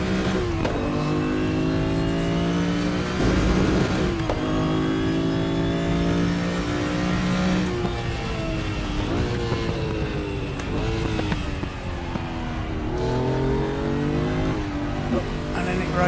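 A Porsche Group 5 racing car with a straight-six engine in the RaceRoom racing game, revving hard through repeated gear changes in a continuous loud, close engine howl with rising and falling pitch.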